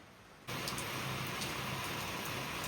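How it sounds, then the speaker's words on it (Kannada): Heavy rain falls outside a house. A quieter moment gives way to a loud, steady wash of downpour that continues evenly to the end. "ಹೊರಗೆ ನೋಡಿದ್ರೆ ಸಿಕ್ಕಾಪಟ್ಟೆ ಮಳೆ"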